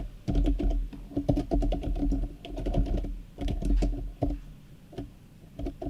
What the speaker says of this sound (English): just typing in the matchups